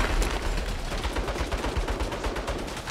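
Mounted turret fire in the Saints Row video game pours out as a steady stream of rapid, loud shots, dense and unbroken across the whole stretch.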